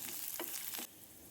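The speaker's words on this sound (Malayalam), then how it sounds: "സവാളയും കൂടി ചേർത്ത് നന്നായിട്ടൊന്ന് വഴറ്റിയെടുക്കാം" Sliced onion and garlic sauté in a pan, a soft close sizzle with two quick scraping stirs before the sound drops to a faint hiss.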